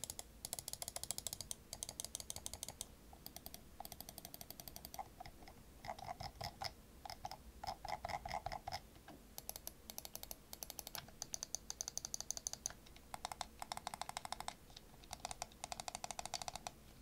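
Button clicks from a Fnatic Clutch G1 large gaming mouse with light left and right switches: quick crisp clicks come in rapid clusters with short pauses, close and dry, and no one speaks.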